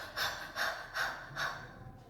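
A voice imitates panting out of breath after heavy exercise, four short breathy puffs of air at a steady rhythm, close and soft, followed by a faint trailing exhale.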